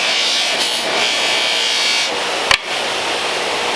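A Ford flathead fuel pump part pressed against a loose sewn buffing wheel charged with white polish, giving a steady close whir with a brief sharp catch midway.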